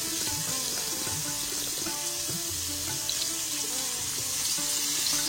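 Pieces of shol fish frying in a pan, a steady faint hiss and crackle of hot oil running throughout with no talk.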